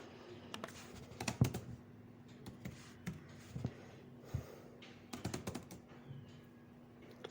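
Quick keystrokes of code being typed on a computer keyboard come in short irregular bursts of close, crisp clicks separated by brief pauses, over a faint steady hum.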